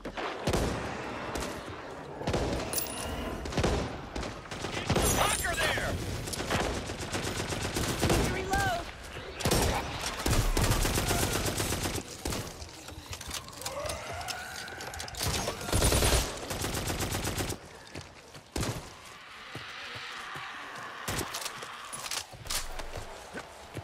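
The Prototype 378 legendary submachine gun in the video game Back 4 Blood fires in rapid bursts and sustained automatic fusillades, loud and close, mixed with game effects, pauses and brief lulls.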